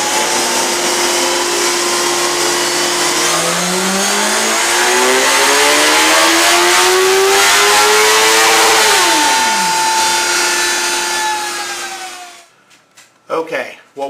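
A BMW S1000RR sport motorcycle engine revs up steadily through the gears on a dyno, pitch climbing for several seconds before dropping away, then a few short throttle blips.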